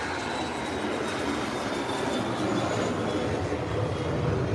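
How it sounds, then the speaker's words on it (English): A jet airliner lifts off from the runway, a steady broadband roar of engine thrust holding loud and unbroken throughout, with no voices over it. "Just past JetBlue, and it's in the air already. Early takeoff."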